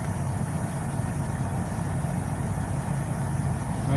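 A car engine idles steadily in a test run, a continuous low rumble held close and even throughout with no talk over it.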